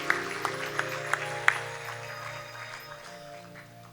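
At a temple idol-consecration festival, a handful of sharp, evenly spaced claps ring out over a low hum, then die away into fading background tone.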